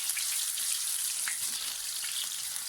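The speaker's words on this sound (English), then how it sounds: "once they stop bubbling in the oil, you know that they're ready." Banana strips fry in hot oil, giving a steady bright sizzle with fine crackling bubbles that runs unbroken throughout and stays close and fairly loud.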